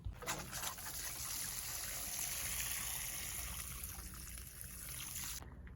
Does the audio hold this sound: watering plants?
yes